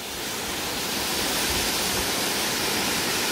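Ungye waterfall on Gamaksan mountain in Paju pours into a shallow rock-ringed pool, a loud, steady, broadband roar of falling water heard up close with no voices.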